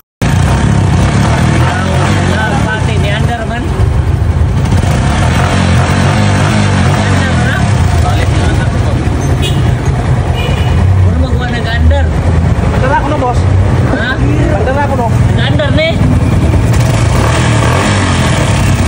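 A Honda CT100 motorcycle with many faults runs for a sound check, its engine a loud, steady, rough drone throughout while someone talks over it.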